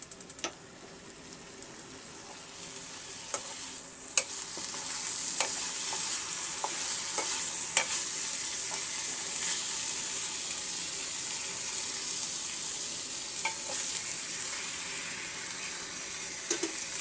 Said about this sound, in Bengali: সরষের তেল দিয়ে আমি লাউয়ের ছোলাটা ভেজে নিচ্ছি।